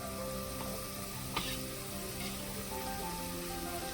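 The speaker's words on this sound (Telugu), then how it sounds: "వెల్లిపాయలు బాగా వేగాలండి" Garlic, cumin, curry leaves and dried red chilies frying in oil for tomato pappu, a soft, steady sizzle with light crackle and one brief clink from a utensil, faint and even throughout.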